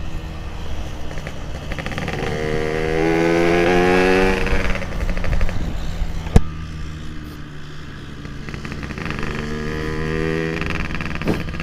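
A Yamaha RX King two-stroke motorcycle, tuned Bandung style, revs on a test ride: a close, loud engine note climbs and falls in repeated throttle blips, with a sharp click midway and a rattling idle between revs.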